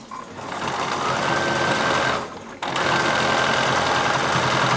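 A sewing machine stitches zigzag through layered fabric potholders, running in a loud, steady close-up whir that stops briefly near the middle and then resumes at the same pace.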